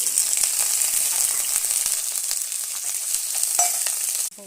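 Sliced onions fry in hot coconut oil in a pan with coconut pieces for an Indian jackfruit curry, giving a steady, loud, close sizzle that runs throughout and drops off sharply at the very end.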